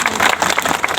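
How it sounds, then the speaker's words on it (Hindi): A village gathering in Kudu, Lohardaga breaks into dense, close applause, many hands clapping at once in a brief burst. "ताली बजा दो जोशी"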